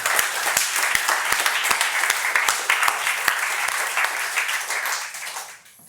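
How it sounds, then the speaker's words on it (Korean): A church congregation applauds during a worship service: steady, loud clapping from a large crowd with sharp individual claps popping out, holding for about five seconds before fading off at the end. "다시 한번 큰 박수로 하나님께 영광을 올려드립시다"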